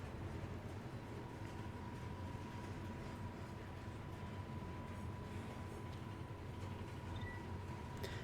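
Train rolling steadily through a mountain gorge in the video game Final Fantasy XV, a continuous low rumble with faint rhythmic rattle and a steady hum, heard alone without talk.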